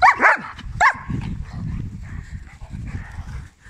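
Berta the dog whines in a few high, sharp cries at the start, then softer low whimpering and snuffling sounds follow close by.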